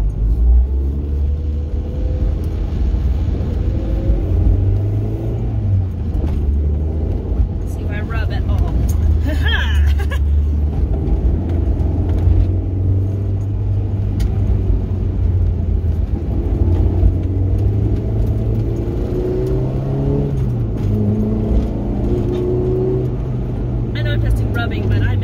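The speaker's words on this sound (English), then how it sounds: "All right, first test drive." A car on its first test drive after a suspension adjustment: a steady, loud engine and road rumble from inside the cabin that continues throughout, with slight shifts in engine pitch.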